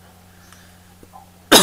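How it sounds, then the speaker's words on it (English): A single sharp cough bursts out at the very end, loud and close, after a near-silent stretch with a faint low hum. "That wasn't me coughing, by the way, I'm not a ventriloquist."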